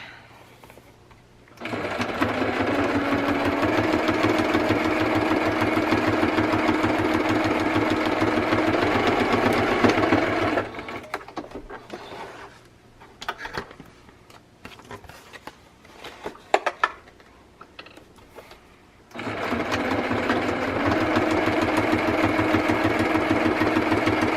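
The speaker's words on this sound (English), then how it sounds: "I'm going to sew the 2 bottoms" A sewing machine stitches the two bottom pieces of a fabric insert cover in long steady runs, stopping for a pause in the middle, then starting again near and loud.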